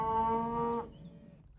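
A horned cow on a free-stall cattle farm in Galicia gives one loud, close, sustained moo lasting under a second, then fades into quiet background.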